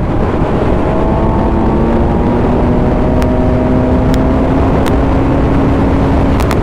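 A 2019 Suzuki GSX-S 750 motorcycle running in sixth gear gives a steady, loud engine drone under constant wind rush, with a slowly shifting tone and no talk.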